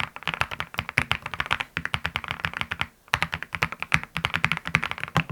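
Fast, steady typing on a wired or wireless mechanical keyboard with RGB lighting and a muted, thocky feel, dense close clicks in quick bursts with one brief pause, no voices.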